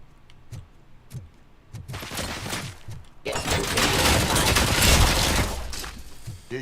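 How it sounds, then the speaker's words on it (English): Loud booming blasts erupt in quick succession, building into a sustained, roaring barrage of explosions with crackling debris, preceded by a few sharper isolated bangs. "Explosions."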